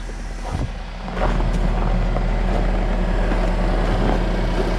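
Truck engine idling steadily after being started, despite a recent voltage issue, with a low continuous rumble that starts up partway through and then holds even and close.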